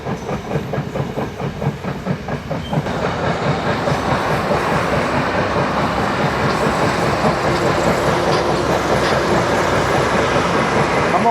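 A train rolls past at close range, loud and sustained, with rhythmic clickety-clack of wheels over rail joints that builds and then holds steady.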